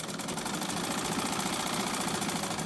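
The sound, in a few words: sewing machine stitching a zip into trousers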